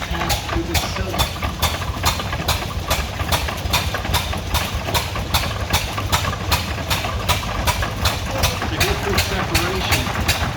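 A steam traction engine drives a threshing machine through a belt pulley at a threshers reunion demonstration, chugging in a steady rapid rhythm with a low, constant rumble underneath, close and loud.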